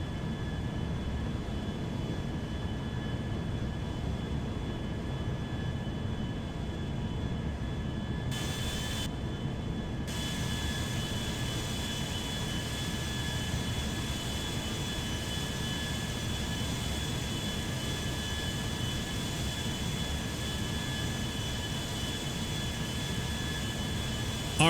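A Concorde jet in a GTA 5 mod rolls for takeoff on an airport cross runway, a steady, loud, unbroken engine roar that holds for the whole stretch, with no talk.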